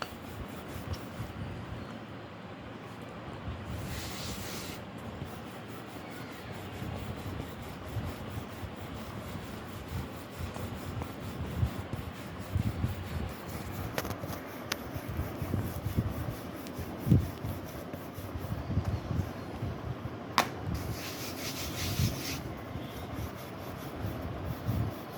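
Roti dough is rolled and turned into a round shape, making soft, faint rubbing and scraping sounds that continue with slight irregular bumps.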